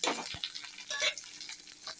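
Onions fry with green chillies in a pan, a close, steady hissing sizzle with faint scraping and popping from stirring.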